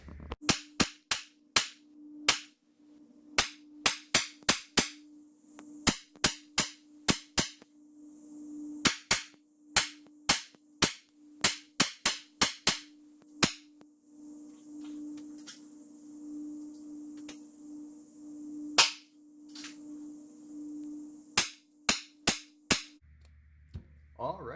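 A Sig MCX Virtus PCP air rifle fires .22 pellets in many sharp, snappy cracks, some in quick bursts and some spaced apart, over a steady faint hum.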